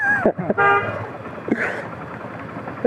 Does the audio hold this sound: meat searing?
no